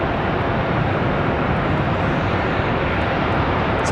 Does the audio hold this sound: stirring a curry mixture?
no